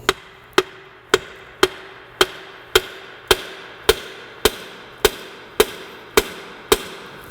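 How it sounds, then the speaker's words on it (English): A hammer taps rivets on the front end of a GMT400 truck about a dozen times in an even, unhurried rhythm, each tap sharp and close with a brief ring. "I'm thinking a couple of taps with the hammer should do it."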